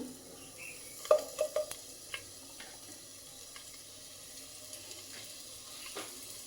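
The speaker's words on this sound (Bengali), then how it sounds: "এই যে এটাতে পেঁয়াজ দিয়ে দিব তরকারি রান্না করার জন্য।" Onions hit hot oil in a pan for a fish and vegetable curry, a quiet sizzle at close range with a quick cluster of light clinks and scrapes near the start, then a softer steady hiss.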